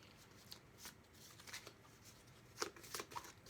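Tarot cards being handled and shuffled: quiet, close riffles and flicks of card stock that come in short bursts, with a few sharper snaps near the end.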